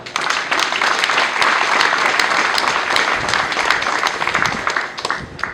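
Applause at a ministerial inauguration of university buildings, a dense, loud round of clapping from a crowd that swells quickly, holds steady and starts to thin at the end.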